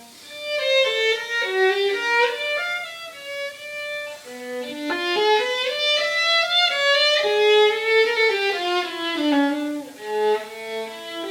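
A solo violin played with a Baroque bow performs a flowing, lyrical melody alone, notes gliding and sustained with smooth bowing, up close and fairly loud.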